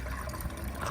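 Tap water pouring at full flow, a steady close rushing stream filling the whole second with no voices over it.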